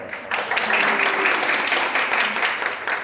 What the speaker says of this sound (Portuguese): dê uma salva de palmas